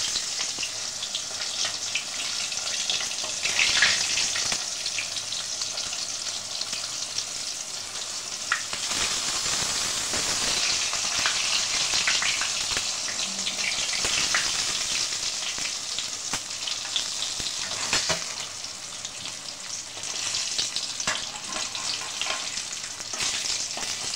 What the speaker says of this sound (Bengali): এইভাবে আমি সব কটা মাছ এক এক করে ভেজে তুলব।